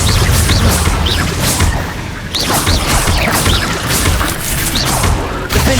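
A fire spell bursts out in the Hogwarts Legacy video game inside a cave maze, loud crashing whooshes and booming impacts layered with dense game effects and music throughout.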